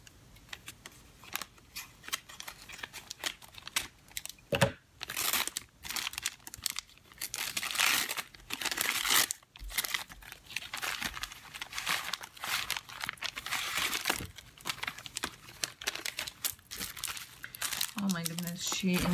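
Tissue paper crinkles and rustles repeatedly while mail is unwrapped, with close, busy crackling bursts that come and go over the whole stretch and a brief tearing sound, as someone talks over it.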